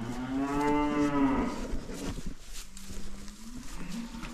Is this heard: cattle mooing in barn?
yes